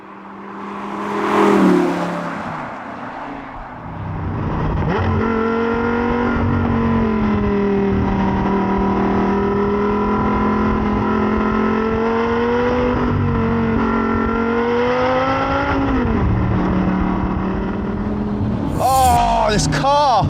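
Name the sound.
Audi R8 engine revving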